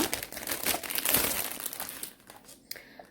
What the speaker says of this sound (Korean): 비닐을 벗겨주시고요.